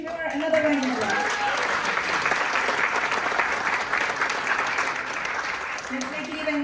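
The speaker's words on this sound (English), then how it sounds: "Let's give her another round of applause." Sustained audience applause fills a theater anniversary gala, steady and dense from start to finish, with a few voices and cheers mixed into the clapping.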